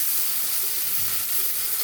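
Chopped onion and bottle gourd leaves fry in a pan, making a dense, even sizzling hiss that stays close and loud throughout with no pauses.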